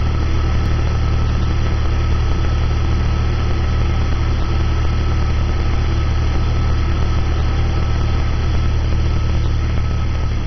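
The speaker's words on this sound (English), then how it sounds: "Okay, Jeep is running." A Jeep engine idles steadily and loudly, a constant low rumble with an even hum that holds unchanged throughout, close by, with no voices.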